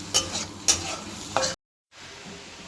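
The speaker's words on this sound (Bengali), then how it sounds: "এবার একটু লাল লাল করে ভেজে তুলে নেবো" Softened vegetables frying in a pan hiss steadily nearby, with three sharp scraping stirs, then a brief cut to silence before a quieter sizzle resumes.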